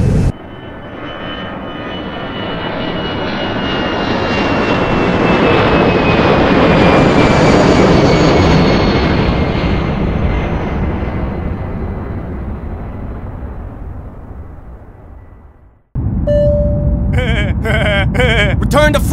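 A propeller airplane engine in Team Fortress 2 drones overhead, swelling loud as it passes and fading away, before a sudden cut to a brief bleating and game voice effects.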